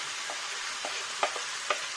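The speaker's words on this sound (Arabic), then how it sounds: "اشوحهم بقى مع الفراخ والبهارات" Diced carrots and vegetables tossed with chicken and spices in a hot pan give a soft, steady sizzle, with a few sharp stirring knocks near the end.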